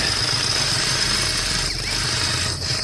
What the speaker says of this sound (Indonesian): Jangan mengebor, suaranya terlalu keras.